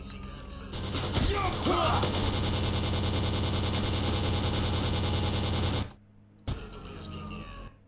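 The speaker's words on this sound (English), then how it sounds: "they have a machine gun nest up there." Sustained automatic gunfire from an army machine gun nest at an outpost in S.T.A.L.K.E.R.: Clear Sky, loud and dense for several seconds, then a brief pause before a shorter burst resumes.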